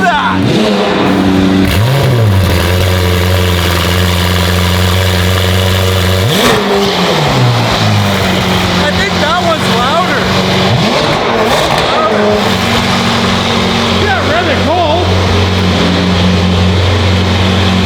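McLaren 720 with an aftermarket exhaust and downpipes revving hard, loud and close, with repeated sharp climbs and drops over a steady burbling idle, and voices talking in the background.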